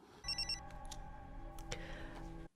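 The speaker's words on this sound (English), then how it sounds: "he's ringing Adalind" A telephone rings with a bright electronic trill for about two seconds, fairly quiet, then cuts off abruptly.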